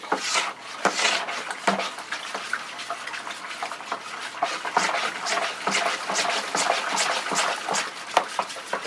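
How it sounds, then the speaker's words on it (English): Brewing ingredients stirred into liquid to dissolve, wet swishing and sloshing with repeated knocks of the spoon against the pot, close and irregular. "So all you have to do is keep stirring it, and it will eventually all dissolve"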